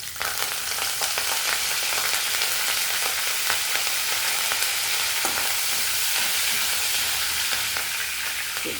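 Curry leaves sizzling in hot oil with cumin, a steady bright crackle filling the clip alongside occasional stirring scrapes, close and continuous.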